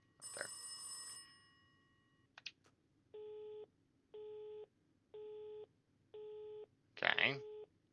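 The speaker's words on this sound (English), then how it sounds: "Will somebody shut off the alarm" An alarm in the Rise to Insanity game sounds as five evenly spaced electronic beeps, each about half a second long with short gaps, clear and moderately loud, after some scattered clicks and tones.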